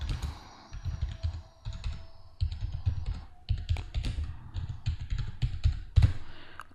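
Rapid typing on a computer keyboard, entering column headings into an Excel loan amortization spreadsheet: close, crisp key clicks in uneven bursts with short pauses, alone without speech.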